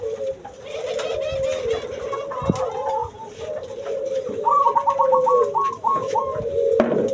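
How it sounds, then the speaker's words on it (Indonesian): Zebra doves (perkutut) kept in small cages coo in repeated rhythmic phrases, with a clear run of quick rolling notes midway, over a steady background hum and a few other bird calls. "Tuh burung perkututnya ada yang bagus tuh"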